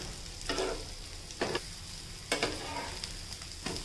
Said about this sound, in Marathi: एक साईड झाली की दुसऱ्या साईडला पण थोडं तेल टाकून घ्यायचं